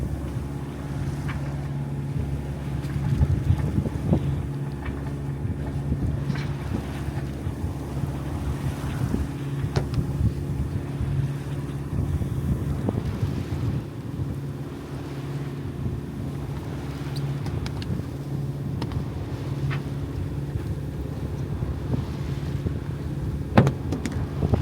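A sailing yacht motors under engine power on a sunny, breezy day at sea, a steady low engine drone beneath wind buffeting the microphone and water washing against the hull, with occasional faint knocks and creaks.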